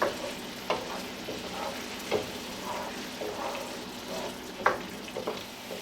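Radishes sizzling in a pan after pork tenderloin pieces have been taken out, a continuous close frying hiss broken by occasional spoon scrapes and taps, with no voices.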